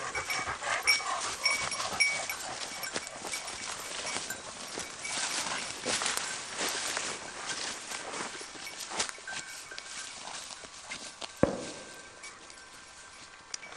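Tired hunting dogs pant in quick, rough breaths close by during a hunt, the panting mixed with rustling footsteps and a brief knock near the end.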